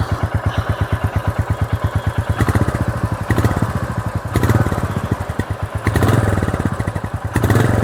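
Royal Enfield Goan Classic 350 single-cylinder motorcycle idling and blipped, a loud, close, steady thumping exhaust rumble with quick regular pulses that swell briefly a few times.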